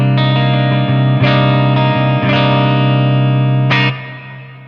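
A Kiesel electric guitar in the fifth pickup position rings sustained chords in a few strummed hits that hold and blend, loud and close, then fade away near the end. The tone is effects-laden rather than fully clean.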